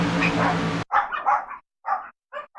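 Dogs bark indoors in a quick series of sharp, close yaps and yips with brief gaps, coming right after a burst of broadband noise.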